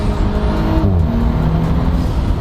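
An Audi B9 S4 with a 034 Motorsport carbon cold air intake revs and shifts quickly, its engine pitch climbing, dropping at the gear change, then climbing again, loud and close.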